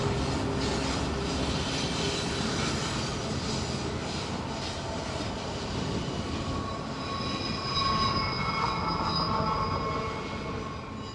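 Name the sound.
BNSF freight train with helper engines climbing Cajon Pass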